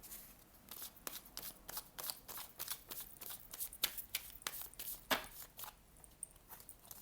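A deck of tarot cards is shuffled close by, giving faint, crisp papery slaps and flicks in an irregular, quick rhythm with no voices.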